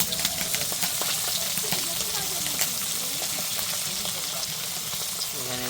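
Fish frying in oil, a dense steady crackling sizzle up close with faint clinks and some background voices.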